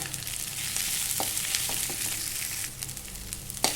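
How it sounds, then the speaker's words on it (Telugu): Drumstick leaves with crushed garlic frying in a pan, a steady sizzle broken by occasional stirring clinks, moderately loud and close, with no talking. "బాగా కొంచెం పచ్చి వాసన పోయేదాకా బాగా వేయించుకుందాం"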